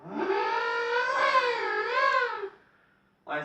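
A person vocally mimics a car, holding a continuous wavering engine-like tone for about two and a half seconds before a short burst of voice at the end.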